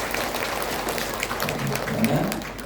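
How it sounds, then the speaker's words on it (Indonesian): A gathered audience at a religious conversion event applauds in a steady, even wash of clapping, moderately loud, with faint voices mixed underneath. "Tepuk tangan dulu buat teman-teman"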